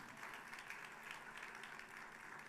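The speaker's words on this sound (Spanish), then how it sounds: "Puede dar ese aplauso de alabanza al Señor" A church congregation claps in steady praise to the Lord during a worship service, dense continuous applause at moderate distance, evenly sustained without any speech over it.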